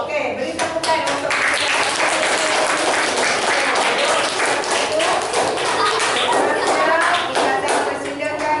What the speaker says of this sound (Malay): beri tepukan untuk